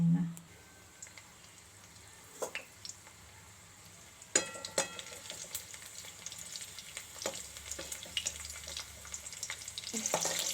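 Garlic fries in a pan with a light continuous sizzle broken by scattered clicks and stirring knocks, growing busier toward the end.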